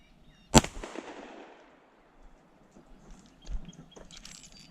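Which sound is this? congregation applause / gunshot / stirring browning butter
gunshot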